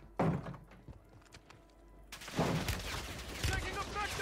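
Gunfire in Call of Duty Warzone on Rebirth Island: sharp shots and short bursts ring out, the densest volley arriving near the end, with voices calling out between them.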